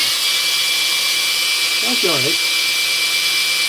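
A battery-powered grinder whirs loudly and steadily from start to finish, and a voice briefly speaks over it partway through.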